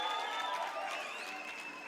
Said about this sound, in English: Can you applaud your lecturers?